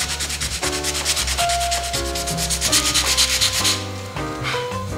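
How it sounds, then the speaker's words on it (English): Hand sanding a dented Infinity Q45 car roof with folded 80 grit sandpaper, rapid rhythmic scratchy strokes, close and loud, with steady music underneath and no talk. "I'm gonna take me a piece of 80 grit, I folded it in half, and I'm gonna rough my area up just like so"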